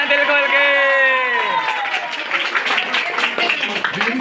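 An audience breaks into applause after a long drawn-out voice, building into a dense crowd of clapping with a few whoops, close and loud.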